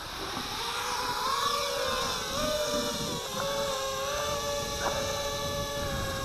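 The motors of a Foxtech Lightning 210 FPV racing drone spin up with a steady, rising electric whine that holds at a constant, fairly loud level with shifting tonal bands, and no talking.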